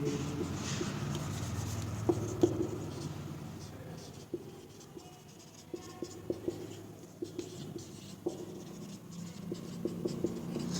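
A teacher writing accounting journal entries during a class 12 lesson, with pen or chalk strokes forming a soft scratching and a few sharp taps, faint under quiet room noise.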